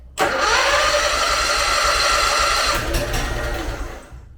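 A Honda GX620 10k-watt generator engine that won't start cranks steadily for several seconds with a loud, continuous whirring churn. It stays up close and alone, then winds down without catching.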